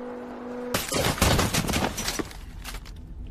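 Heavy gunfire in a crime-thriller movie scene: a sudden loud burst of rapid overlapping shots after near silence, continuing as a dense fusillade that slowly thins out.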